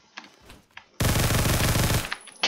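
A Micro Uzi in Roblox Phantom Forces lets off one loud, rapid burst of about a second, its tightly packed rattling shots close and sharp, bracketed by a few quieter isolated pops and clicks before and after.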